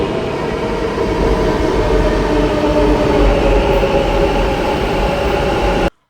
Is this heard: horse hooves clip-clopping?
no